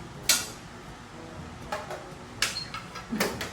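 Plates and dishes clink and knock together close by, a handful of sharp separate clatters spread unevenly across a quiet indoor room.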